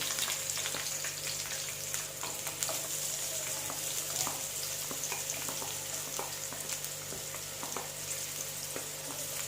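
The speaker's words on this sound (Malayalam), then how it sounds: "ആദ്യം ഞാൻ ഉള്ളിയും പച്ചമുളകും ഇട്ട് കൊടുക്കുകയാണ്" Onions and green chillies sauté in oil in a pan for a tomato drumstick curry, giving a steady close sizzle with small crackles and pops throughout and no speech.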